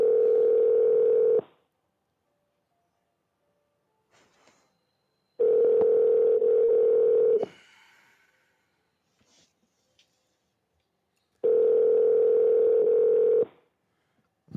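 A telephone call rings out with three long, loud ringback tones about five seconds apart, separated by near silence and a few faint clicks.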